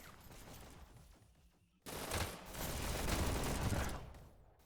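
SMG and burst rifle fire in a VR esports shooter match, a dense, continuous rattle that drops briefly and then returns louder and sustained, sounding somewhat distant and muffled.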